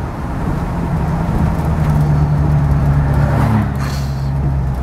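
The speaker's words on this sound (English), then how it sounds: "I'm gonna give it a little gas here. There's a little downshift into second gear." A Ford Bronco engine revving as it gets a little throttle and then downshifts into second gear, heard up close as a steady low hum whose pitch rises and then drops.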